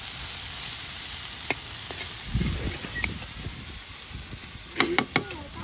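Bitter gourd (karela) sizzles as it fries in a pan in a village kitchen, a soft steady hiss punctuated by a few sharp utensil clinks and stirring scrapes.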